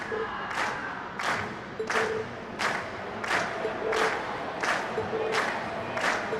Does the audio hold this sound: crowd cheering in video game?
yes